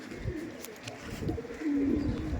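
A pigeon in a Howrah loft coos softly, a low throaty burble swelling near the end, faint against quiet room noise.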